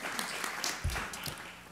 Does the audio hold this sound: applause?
yes